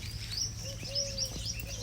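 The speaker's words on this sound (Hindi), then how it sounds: "ये चिड़िया देखिए, कठफोड़वा" Thin high chirps and a sustained whistled note from a woodpecker sound at moderate distance during a roadside stop on a Gujarat road trip, repeated over a low rumbling background.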